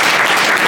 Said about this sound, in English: Let's give him a big round of applause for that.